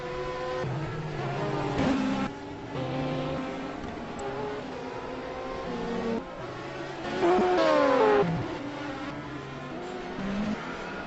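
GTE race car in a pit stop during the Sebring 12 Hours endurance race, its engine droning and revving with rising and falling tones, plus a louder surge partway through against trackside noise.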